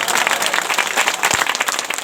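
An audience at a community gathering claps steadily, a dense, loud wash of many hands applauding together without pause for about two seconds.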